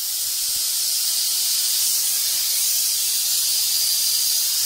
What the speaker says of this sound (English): You can hear the compressor kick on.